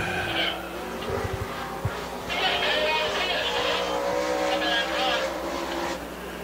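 Super late model race car number 00 roaring around Dixie Speedway during qualifying, its engine blaring loudly with a rising, sustained howl, while an announcer talks over the track noise.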